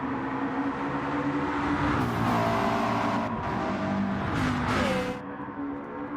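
Two McLaren 650S race cars in a racing video game run bumper to bumper, their engines giving a steady, close, droning roar with rising and falling pitch as they accelerate and shift.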